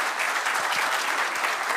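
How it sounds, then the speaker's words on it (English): A conference audience applauds at a Python lightning-talks event, a steady, dense clapping from a fairly large crowd that stays even throughout without any talk over it. "I take another round of applause"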